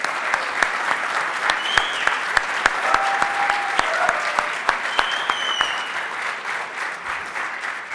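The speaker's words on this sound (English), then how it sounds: "I think they were clapping" A conference audience claps after a startup pitch at the SXSW Interactive Accelerator finals: steady, fairly close applause with a few sharp individual claps standing out, easing off near the end.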